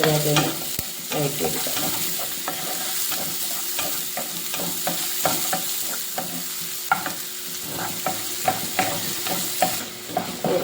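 Chopped onion sautéing in ghee, a steady soft sizzle under repeated scraping and stirring clicks of a spoon against the pan, close and moderately quiet throughout.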